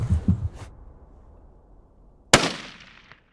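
A rifle shot fired while hunting gemsbok in Africa cracks out once, sharp and loud, and trails off in a brief echo across open ground after a few seconds of quiet outdoor background.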